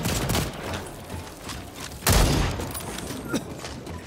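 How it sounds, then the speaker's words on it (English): A grenade detonating in the dinosaur shooter Second Extinction, one loud deep blast partway through amid ongoing game gunfire and mechanical rattles. "Grenade out!"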